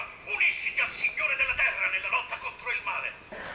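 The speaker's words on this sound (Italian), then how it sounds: "il telefono dei Gormiti quando lo avevo acceso con quella suoneria incredibile l'accensione" A Gormiti toy phone plays its power-on ringtone, a bright electronic jingle with a sustained tone and pulsing bursts, fairly loud and close for a few seconds.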